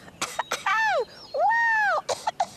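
A few short coughs and throat noises, broken up by long, drawn-out voiced sounds; close and fairly loud, with nothing else around them.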